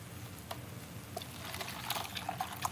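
Water poured into a measuring cup in a home kitchen, a soft steady trickle with faint splashes, quiet and close, with no talking.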